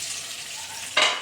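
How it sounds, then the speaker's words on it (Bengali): Potatoes fry in hot oil with a steady close hiss, then a sudden louder burst of sizzling near the end as they are stirred or turned. "আমি আলুটাকে ভেজে ভালো করে তুলে নিচ্ছি"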